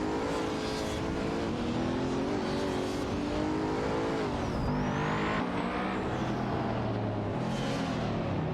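Simulated race car engines, among them a Pagani Huayra battling for third place, roar and rev continuously in a crowded AI video game race, with rising and falling pitches as cars jostle and pass.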